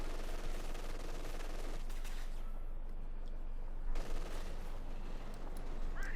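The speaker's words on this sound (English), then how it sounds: "there's a personal machine gun bunker" A machine gun bunker fires in the World War II strategy game Company of Heroes 2 amid a constant loud din of battle, with continuous rattling gunfire and a voice talking over it.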